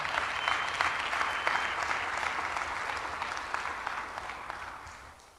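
Church congregation applauding for the Lord, dense sustained clapping from many hands, close and full, gradually tapering off toward the end.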